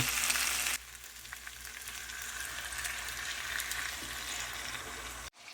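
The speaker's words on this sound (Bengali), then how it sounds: "ঠিক এই পর্যায়ে আমি একটু পানি দিয়ে এটাকে আরও কষিয়ে নেব" Beef in a pan bursts into a loud hiss as water is added, then settles into a steady, close sizzle while it cooks down, ending abruptly.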